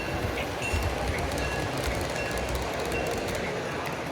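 Z scale model locomotives, a GP38-2, U23B and C424M lash-up, run through a layout at the Massena Hobby Show, giving a continuous close rolling rattle amid busy hall noise.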